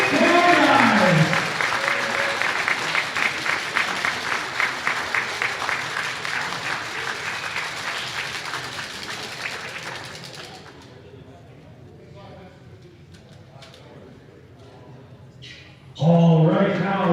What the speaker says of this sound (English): please join us in giving our 25-26 graduating athletes a huge Lancer round of applause